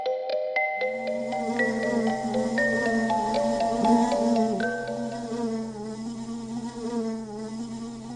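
A close, droning buzz of flies hums steadily throughout, layered with sustained tones, loud and continuous with no talking.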